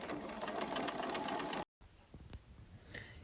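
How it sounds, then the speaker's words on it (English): Sewing machine stitching around the waistband of denim jeans, a steady dense whirr for about a second and a half, then a brief break and quieter, uneven machine sounds. "We're just going to stitch all the way around the waistband"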